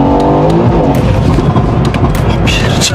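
An 801-horsepower sleeper car pulls away gently, its loud engine rumbling close by in a steady drone with faint mechanical clatter and a voice briefly audible over it.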